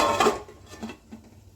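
Metal lid set down over a frying pan of small kachki fish, a quick clatter followed by a couple of lighter taps, close and brief against a quiet background.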